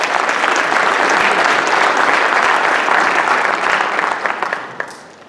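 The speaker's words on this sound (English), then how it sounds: "Our Reach leaders, please give them a round of applause." A school audience at an incoming-freshman parent night applauds steadily for student leaders, the dense clapping holding strong for about four seconds before tapering off near the end.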